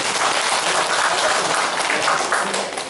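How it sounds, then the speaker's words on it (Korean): A group gives a round of applause for the group's secretary at a graduation ceremony for nature observation leader trainees, steady dense clapping from many hands that fades slightly at the end. "우리 간사로서 박수 한번 주십시오"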